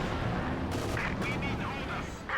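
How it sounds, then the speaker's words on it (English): Artillery shells land with booming blasts in a Company of Heroes 2 3v3 match, mixed with game sound effects and heard under steady commentary from a caster. "Artillery comes in. Hits."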